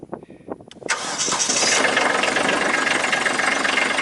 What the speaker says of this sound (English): that little glow plug warms it up just enough to give it the boost it needs temperature wise to get started in this cold weather